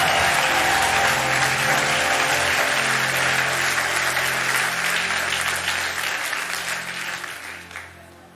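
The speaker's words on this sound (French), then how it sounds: "Acclame mieux que ça, mieux que ça" A large audience claps steadily and loudly for several seconds, a dense sustained wash of applause that slowly thins and fades toward the end.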